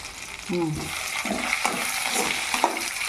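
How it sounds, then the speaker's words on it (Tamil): Herb leaves, including Ceylon spinach, black nightshade and vatha narayanan leaves, sauté in a pan for a herbal chutney, giving a soft broadband sizzle with a few stirring scrapes over about three seconds, close and steady. "வாதநாராயணன் இலை போடு. நல்லா வதக்கணும்."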